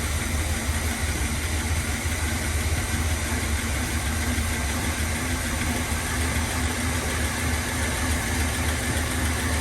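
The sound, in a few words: 1981 GMC Sierra truck engine starting and idling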